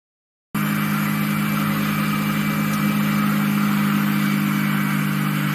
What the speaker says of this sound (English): I'm going to turn on a 600-watt LED bulb by rotating the flywheel and generator with a small motor.